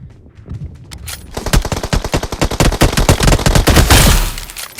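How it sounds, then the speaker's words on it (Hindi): Rapid gunfire from the BGMI mobile battle royale game, a dense burst of loud shots fired in quick succession that builds over several seconds, with no talk over it. "देखो अभी एक 2-4 शॉट मार के दिखाता हूँ।"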